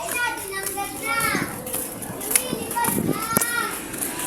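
Children play outdoors near a walking route to a 7-Eleven, their shouts and chatter forming a lively background murmur, while nearby adults talk over it.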